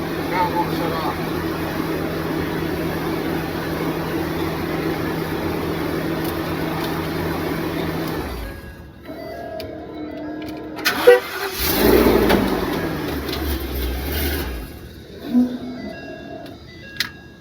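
A truck engine that won't shut off keeps running as a steady, loud idle for about eight seconds, then cuts out, followed by clunks and rattles.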